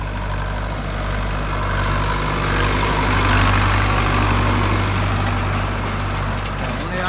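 A tractor working a field with an 11-tine plough, its heavy diesel engine droning loud and steady throughout, swelling slightly midway, while someone talks over it.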